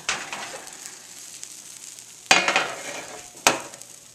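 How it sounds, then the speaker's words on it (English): Bruschetta toast sizzles and crackles steadily in a hot pan, with two sharp bursts of louder hissing partway through; no one speaks. "Can you hear that sizzling?"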